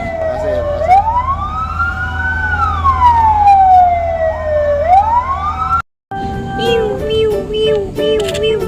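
A toy fire truck siren wails loudly, rising and falling in long sweeps, cuts out briefly, then resumes with a faster warbling tone.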